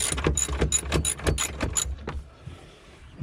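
A ratchet wrench loosens a body bolt on a broken-down vehicle, clicking in several quick bursts of sharp, close ratcheting before fading to quiet handling noise.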